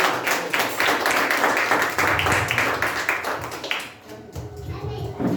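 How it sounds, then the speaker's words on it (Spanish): A church congregation claps in praise during a sermon, a dense continuous wash of hands from a large group that fades briefly near the end before resuming, with a voice mixed in. "Alguien puede aplaudir al Señor."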